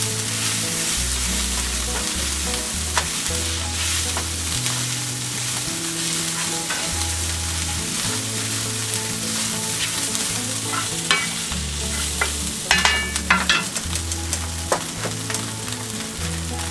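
Meat for a shepherd's pie frying in an oily pan, a loud continuous sizzle with spoon scraping and stirring throughout, a few sharper clatters near the end, no talking.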